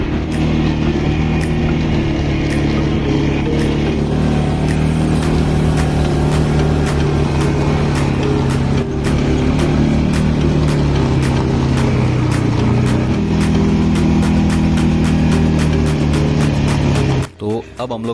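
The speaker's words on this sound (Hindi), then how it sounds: "अभी स्नो बाइक की राइड कर रहे हैं" A snow bike engine drones steadily during a ride across the snow in Solang Valley, a close, loud, continuous motor hum with rhythmic clicks and ticks, while someone talks over it.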